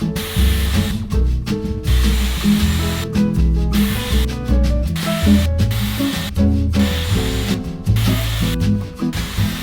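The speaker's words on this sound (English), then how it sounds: "Adding a little bit of texture spray, especially to this level, because those are not going in rollers and I want them to hold better." Texture spray hisses onto hair from a can in a series of short bursts separated by brief pauses, close and loud, with a low rumbling background between the sprays and no one talking.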